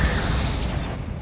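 Bombarda blasting spell going off in Hogwarts Legacy, a dense, loud low rumble with a crackling burst that fills the short moment and fades slightly at the end.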